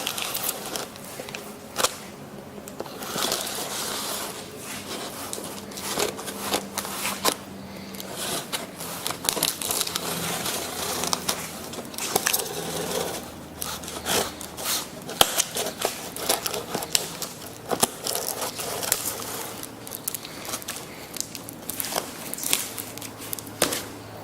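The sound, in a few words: safety scissors cutting open spoiler packaging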